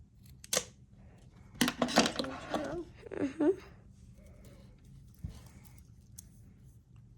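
Scissors snip through a bracelet string in a few sharp, close cuts spread across the moment, with a person talking softly in between.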